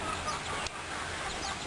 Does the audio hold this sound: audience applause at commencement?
no